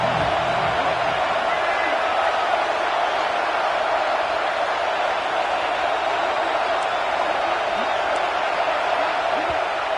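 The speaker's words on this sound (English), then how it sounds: "This crowd is trying to inspire this defense to make a big red zone stop." Stadium crowd noise from the College Football 26 video game, Illinois against Penn State near the goal line, forms a steady, dense roar that holds at an even loudness throughout.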